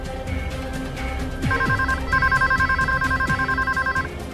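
A telephone rings unanswered in a hotel room, in repeated electronic trilling bursts that start partway through and continue with one short pause, moderately loud over a low background hum.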